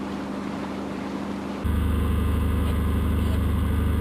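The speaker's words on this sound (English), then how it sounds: "there's a tug coming through" A tugboat passes through Dry Strait in Alaska, its engine a steady low rumble that jumps abruptly louder partway through and then holds as a continuous near drone.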